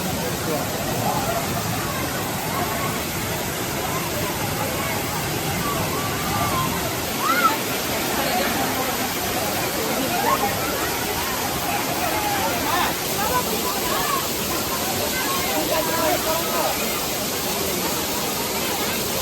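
Roar of the Muttal waterfall near Attur in Salem, a constant heavy splashing rush heard up close, with a faint babble of crowd voices mixed into the steady wash of water.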